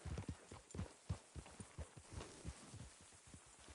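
Horse hooves clip-clop on a trail in Red Dead Redemption 2, a quiet, steady rhythmic series of close hoofbeats continuing throughout with no talk.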